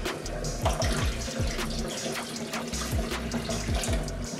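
Tap water runs steadily into a bowl of quinoa being rinsed, a continuous close splashing and trickling with small sloshes as the grains are stirred, with no talking.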